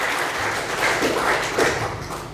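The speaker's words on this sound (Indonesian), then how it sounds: "Kasih tepuk tangan dulu gitu aja." A congregation or audience claps at a church storytelling gathering, a soft, continuous patter of hands that swells slightly near the end, heard alone without talk.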